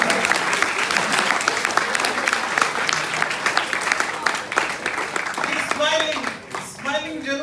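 Loud, sustained audience applause at a poetry gathering, dense steady clapping from a crowd that thins and fades near the end.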